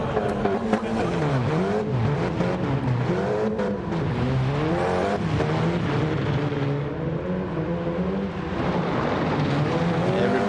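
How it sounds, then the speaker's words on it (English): Race car engine in a rally-style racing game on the Sardegna Windmills course, droning and revving up and down continuously through a flat spin, with faint tire scrub and no speech. "Oh no, flat spin for Pickles."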